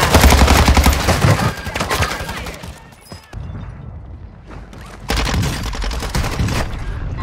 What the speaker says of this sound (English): He just shot me.